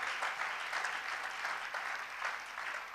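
A church congregation claps and cheers steadily at a moderate distance, a continuous wash of applause with no voices standing out.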